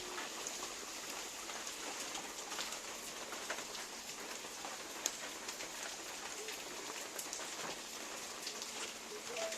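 Steady rain falls on surfaces while elephants are fed at a mud-spa elephant setting in Thailand, a continuous dense patter with occasional nearby drips and faint bird coos in the background.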